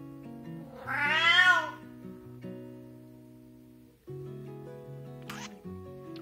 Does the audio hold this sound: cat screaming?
yes